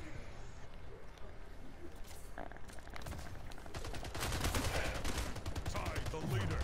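Gunfire in the Splitgate video game during a team deathmatch: rapid shot bursts build and grow louder toward the end, set under background game noise.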